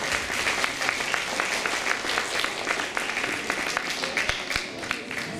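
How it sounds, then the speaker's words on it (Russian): A crowd at a school Teachers' Day celebration gives loud applause to young performers, with many hands clapping in a thick, sustained burst and sharp individual claps standing out near the front. "И бурные аплодисменты нашим юным."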